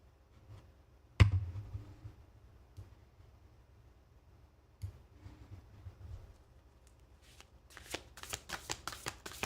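A deck of playing cards is shuffled several times in quick ruffling bursts, with a sharp clack early on and quiet pauses between shuffles.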